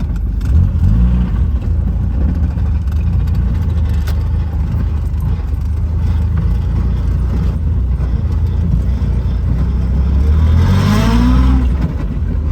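Small British classic cars on a club group drive, the steady engine drone and road rumble carrying throughout, with a rising rev and gear change near the end; no talking.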